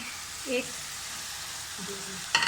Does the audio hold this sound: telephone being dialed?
no